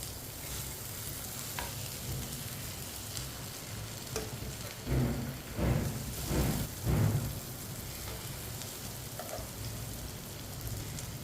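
An omelette fries steadily in a pan with a soft, even sizzle, broken midway by a few louder scraping and turning sounds before settling back to gentle frying.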